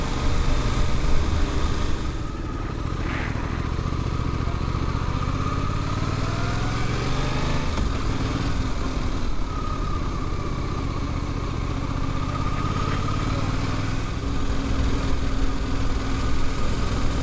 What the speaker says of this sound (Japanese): バイクいっぱいですね。